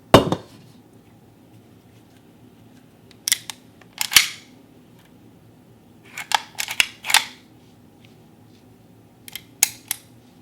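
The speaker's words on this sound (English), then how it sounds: "Let's do a manual check on this gun." Manual function check of a CZ 75 B high-polish stainless 9mm pistol: crisp metallic clicks and snaps of the slide and trigger, in small clustered bursts with quiet gaps, close and alone.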